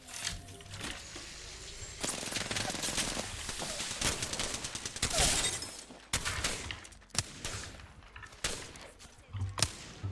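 Rapid Wingman pistol gunfire in a video game, sharp shots in irregular bursts with gaps between volleys, loud and close amid other game effects.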